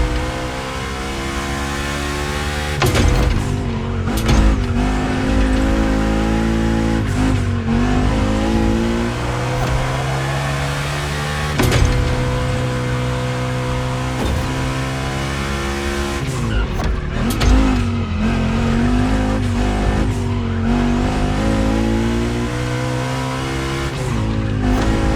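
Volkswagen race cars roar around a track in The Crew Motorfest, loud engines revving and rising in pitch as cars pass, with repeated acceleration surges and gear shifts and no talking.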